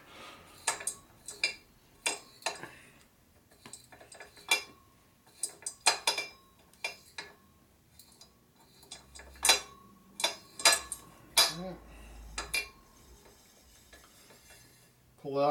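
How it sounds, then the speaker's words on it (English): A hand tap cuts threads in a part from a 1978 Harley-Davidson shovelhead engine, giving close, sharp ticks and metallic creaks in irregular bursts with short pauses between turns. "So even though the tap doesn't want to cut it, it must be good."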